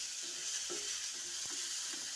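Native curry leaves being stirred into a frying prawn roast, a soft steady sizzle under a few brief scraping stirs, faint and close with no voices.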